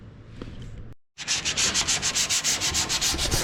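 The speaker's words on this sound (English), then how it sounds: "Just sanding" Sanding oxide off aluminium: a steady rhythmic rasp of abrasive strokes, close and loud, starting after a brief pause following softer handling noise.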